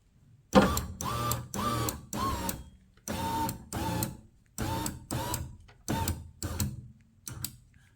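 A power window motor drives the rear door glass of a Ford bumpside crew cab truck, whirring in about a dozen short, separate bursts, each a second or less, close by with quiet gaps between.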